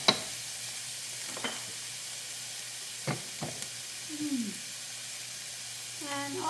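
Vegetables seasoned with salt and pepper sizzle in a pan with a soft, steady frying hiss, broken by a few stirring scrapes and utensil clinks at moderate closeness.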